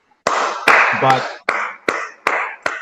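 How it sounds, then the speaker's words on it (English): Several sharp hand claps ring out in an uneven series over an online workshop call, each with a short, roomy decay, while a single short spoken word slips in between them. "someone will not stop clapping"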